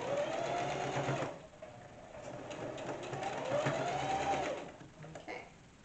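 Sewing machine stitching a makeup bag near the zipper, a steady close whirring hum that dips briefly and then resumes at an even, slightly rising pace.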